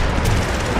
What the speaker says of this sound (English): Bombing run swooping in.